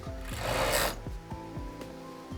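A sewing machine stitches the necks of soccer uniforms in a close, rhythmic mechanical chatter, with a brief rushing burst of fabric handling near the start.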